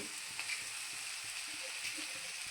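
Onions frying in a pan until golden, a steady soft sizzle throughout with faint scattered stirring clicks, no voices.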